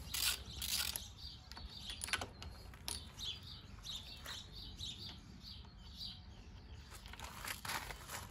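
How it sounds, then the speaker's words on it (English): Quiet ratchet clicks repeat in quick bursts up close as spark plugs are removed from a 2001 Johnson 30 HP outboard boat engine, with faint bird chirps in the background. "We'll start by pulling the spark plugs out"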